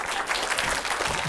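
An audience clapping at a maths talk, a dense burst of applause from many hands, steady and fairly close, filling the short moment.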